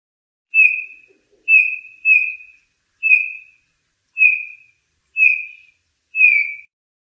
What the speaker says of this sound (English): Bullfinch.